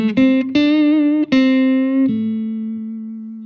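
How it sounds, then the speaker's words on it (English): A guitar lead lick played fingerstyle, plucked with the fingers rather than a pick: a quick series of four or five rounded note attacks with slides between them, then a held note fading out, loud and solo. "Now listen again as I use my fingers to play the same idea."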